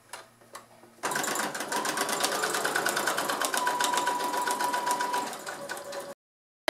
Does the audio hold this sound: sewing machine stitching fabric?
yes